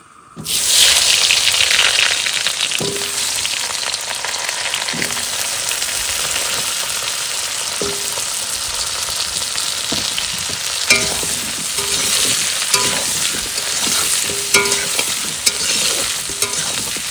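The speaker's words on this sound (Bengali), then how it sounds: "এবার আলুটা ভেজে নেবো" Potatoes frying in hot oil make a loud, steady sizzle, with bubbling and occasional clinks of stirring throughout.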